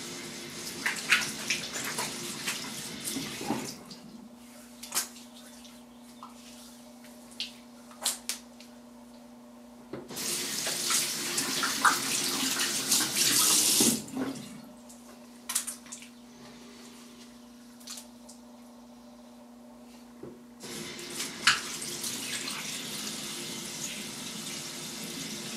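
Cold water running from a tap in two loud bursts separated by quieter stretches with a steady hum and occasional clicks and knocks, close by.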